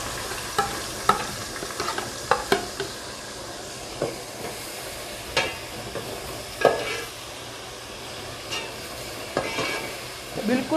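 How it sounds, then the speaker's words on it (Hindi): Onions frying in a pan of oil, a steady close sizzle broken by irregular clinks and scrapes of a spatula stirring and turning them, continuing without speech. "अब प्याज को फ्राई करेंगे।"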